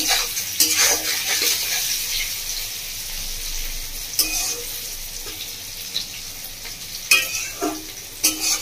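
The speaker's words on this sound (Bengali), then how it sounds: "লবণটা দিয়ে ভালো করে ভেজে নেব" Pointed gourd (potol) pieces fry with salt in a pan, giving a hissing sizzle with bursts of stirring and scraping that flare up near the start and toward the end.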